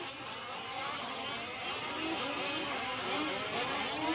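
Fifth-scale RC trucks race in the M15 class at Fear Farm, a distant whining engine buzz that swells and fades steadily as the trucks run around the track, with no talking.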